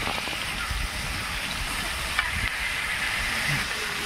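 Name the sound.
chicken sizzling in hot oil on a griddle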